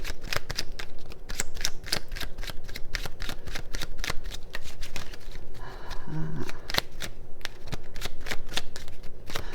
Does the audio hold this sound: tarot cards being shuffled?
yes